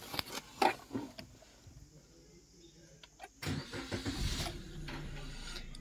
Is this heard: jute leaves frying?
no